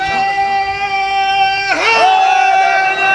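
Crowd at a Shia majlis gathering loudly chanting a religious slogan in unison, a sustained sung call that swells and bends in pitch, close and strong throughout.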